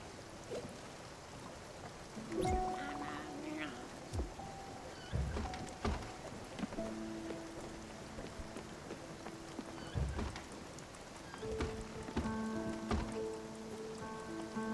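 Steady soft rain patters across the scene in the video game Spiritfarer, with a gentle continuous hiss, occasional louder drips and knocks, and faint tonal game music underneath.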